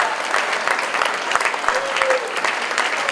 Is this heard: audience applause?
yes